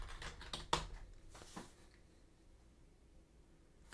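A computer keyboard clatters in a quick burst of keystrokes, close and crisp, then falls to near silence before one last tap.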